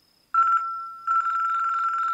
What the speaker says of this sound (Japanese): 電話だ。